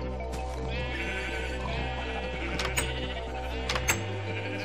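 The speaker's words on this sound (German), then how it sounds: "Wie viele Schafe haben wir denn?" Sheep in the video game Minecraft bleat repeatedly, several overlapping calls in a loud, steady stream over a low hum.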